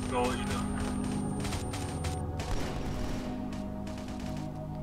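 Gunfire in the military shooter game Arma 3, with shots coming from a tower during a firefight: rapid bursts and scattered shots mixed with game noise, fairly loud, then trailing off as the action continues.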